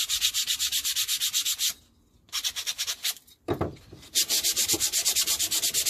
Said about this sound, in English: We'll give it a good sand all round.